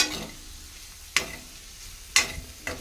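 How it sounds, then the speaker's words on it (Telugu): Potatoes fry in a pan with a steady low sizzle, broken by a few sharp scraping clicks of a stirring utensil against the metal, all close and with no talking. "వేగుతుంటేనే భలే స్మెల్ వస్తుంది బంగాళదుంప ఫ్రై బాగా మెత్తగా ఉడికిపోయినాయి"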